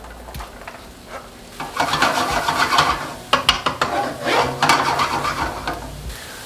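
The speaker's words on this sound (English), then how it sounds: "So now when the oil heats up, we're going to put some onions in." Red onions hit hot oil in a pan while a Persian pomegranate chicken dish is being cooked. A loud, close sizzle flares up after a quiet start, with scraping stirring strokes that pulse in uneven bursts.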